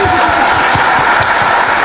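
An audience claps loudly for a woman, dense continuous applause filling the room with individual claps rhythmically audible, and a voice speaking over it.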